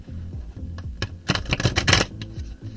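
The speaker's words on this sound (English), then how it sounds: "Or doesn't want to even shuffle." A sticky deck of cards being shuffled, giving a short burst of papery riffling and snapping that builds to a dense flurry in the middle, then fades to light handling noise, close up and with no voices.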